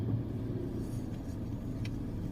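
Sunday road traffic with cars and jeeps makes a steady low rumble of engines close by, a continuous dull drone without distinct horns or voices.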